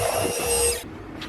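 A milling machine cuts a pair of spanner flats into a small metal part, giving a steady whining, grinding machining noise with a high tonal ring for most of the moment before it stops abruptly.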